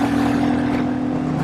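Steady exhaust growl from a Royal Enfield Classic 350 motorcycle fitted with a heel shifter, a continuous close, loud engine drone with a strong low hum holding throughout.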